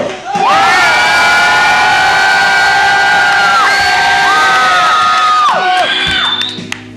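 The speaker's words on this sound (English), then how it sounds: "Make some noise for Antonio" A loud crowd at a dance battle cheers and shouts continuously, with high whoops and children's voices rising over the roar.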